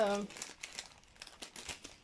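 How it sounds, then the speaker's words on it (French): A plastic bag being opened during an unboxing, with crinkling and crumpling in quick bursts right after a brief bit of speech at the start. "Faut que j'arrive à ouvrir le sac."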